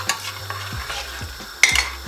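Rice is stirred into boiling water in a pot, heard as a few soft scraping strokes with a sharper clink near the end, close and alone over the bubbling.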